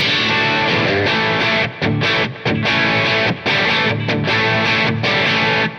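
A heavily distorted electric guitar plays loud chords through an amplifier, with brief pauses between strummed phrases.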